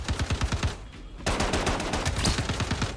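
Rapid automatic gunfire from a firearm in the shooter game Star Citizen's Star Marine mode, loud, close bursts of evenly spaced shots with a brief pause in the middle before firing resumes.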